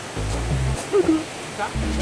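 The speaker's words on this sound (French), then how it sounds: "tout au fond à droite, il y a une cascade." A steady, broad rush of water from a waterfall runs through the whole stretch, passed on a long hike. A voice talks over it in the middle.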